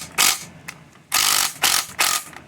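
Ratcheting wrench loosening the bolts that hold the oil cooler to the oil filter housing on a Mercedes M272 V6 in a 2011 GLK 350, heard as several close, loud bursts of rapid clicking separated by short pauses.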